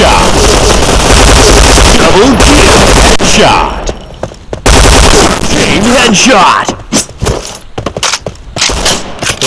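A P90 submachine gun fires in the video game Point Blank in loud, rapid bursts and sharp cracks that are close and dense, with brief gaps between volleys and a few quieter moments.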